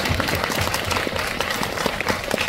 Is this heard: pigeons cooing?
no